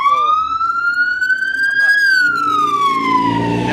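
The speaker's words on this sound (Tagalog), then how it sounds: "Biglang may ambulansya dumaan." An ambulance siren sweeps past on a Philippine street near a long queue, its wail rising then falling in pitch as it passes close and loud, with traffic rumble underneath.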